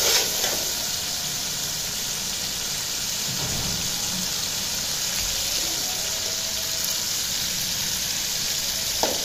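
Rice and lentils added to a pot of fried spices for a home-cooked meal give off a steady, loud sizzling hiss that holds evenly for about nine seconds, with no talking.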